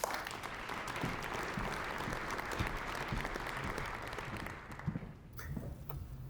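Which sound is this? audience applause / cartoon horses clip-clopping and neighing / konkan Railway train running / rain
audience applause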